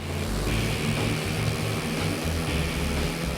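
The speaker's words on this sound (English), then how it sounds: "your engine sounds like one continuous fart" A steady, buzzing engine drone holds unbroken throughout, low and rumbling with a constant pitch, like a propeller craft flying along.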